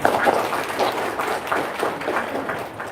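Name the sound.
audience applause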